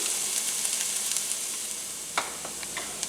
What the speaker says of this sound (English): we're going to cook this down for about 3 or 4 minutes till the onions become translucent